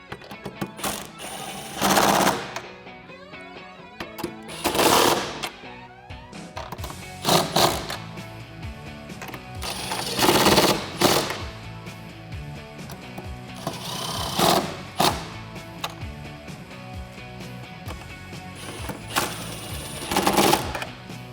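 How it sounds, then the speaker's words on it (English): Bolts on a Jeep Wrangler JL tailgate being tightened with a 13mm socket, likely on an impact tool. Loud ratcheting bursts come in repeated runs of a second or two, separated by quieter pauses. "we can use that same 13mm socket that we used before to tighten all of them down"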